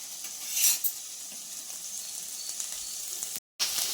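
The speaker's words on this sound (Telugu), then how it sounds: "ఇప్పుడైతే ఎగ్ కొట్టి పోసుకుంటున్నానండి నేను." Beaten eggs poured into a hot pan frying with chopped ivy gourd, a steady close sizzle with a brief louder hiss early on and light utensil taps, alone without talking.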